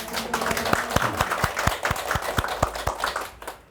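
Scattered, distinct hand claps ring out from an audience at a real estate brokerage lecture, a rhythmic series of sharp slaps that thins out and fades.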